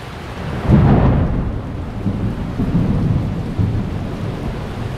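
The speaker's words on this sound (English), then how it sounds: "getting a bunch of lightning, bunch of thunder happening." Thunder rumbles through a dark evening storm, a deep roll swelling early and then lingering low beneath a constant wash of rain, close and fairly loud with no wind and no voices.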